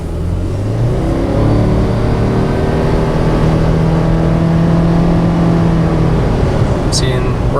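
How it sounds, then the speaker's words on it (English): Subaru Forester XT pulling hard under acceleration, its engine revving up quickly in a steady, loud rising drone that fills the whole stretch; no talk over it. "it is rev happy, where it really jumps up pretty quickly, gets those RPMs up"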